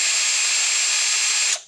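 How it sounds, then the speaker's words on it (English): A power drill spins counterclockwise to tighten set screws on a Safe-T-Winder, a loud steady high whine for about a second and a half before cutting off, with no talk. "we set the drill so it's turning counterclockwise"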